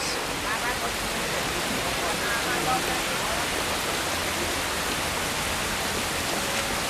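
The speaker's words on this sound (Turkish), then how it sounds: "pedana yağmur yağıyor" Rain falls in a continuous, even hiss that fills the scene, steady and moderately loud from start to finish.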